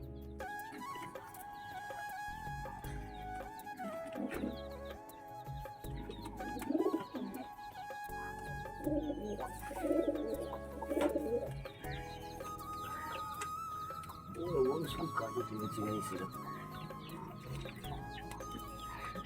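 Pigeons cooing nearby: soft, throaty, repeated coos and murmurs that rise in bursts over a steady background hum, with several birds calling at once.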